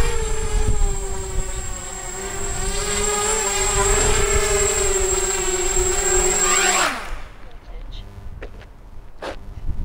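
Small 250-size tilt-rotor quadcopter drone whines steadily as it flies in to land, its high motor tone sliding down and cutting off as it touches down, close and loud.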